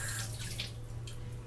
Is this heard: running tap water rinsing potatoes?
yes